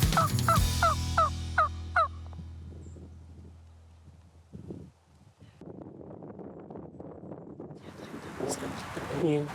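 A wild turkey gobbles outdoors during a spring hunt, a rapid rattling burst of calls at the start, then wind noise and quiet human talk take over.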